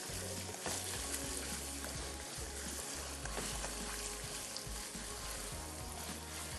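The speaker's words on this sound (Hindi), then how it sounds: "जब हम चिकन की भुनाई कर रहे होते हैं" Chicken fries with garlic in a karahi, giving a loud, dense sizzle with scraping stirs and low clanks of the utensil against the pan throughout, close up and without talk.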